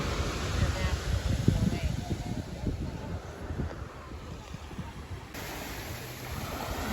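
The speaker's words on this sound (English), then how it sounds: "this has the waves going in" Ocean waves wash steadily onto the shore at Disney's Vero Beach Resort, a continuous close surf rumble with wind buffeting the microphone throughout.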